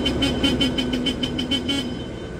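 A car horn sounds in a quick series of about eight short, loud toots, a farewell honk for a departing owner's vehicle, close by with a faint steady tone running underneath.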